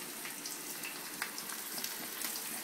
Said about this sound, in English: we're going to put it back in the fry pan, because we want it to get hard again